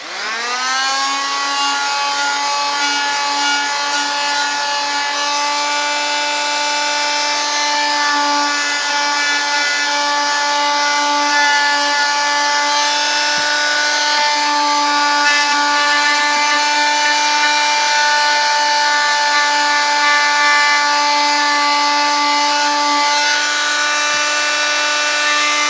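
A power sander whines steadily and loudly with a strong continuous hum as fine 220-grit paper works over the wooden body of a cigar box guitar, running unbroken throughout.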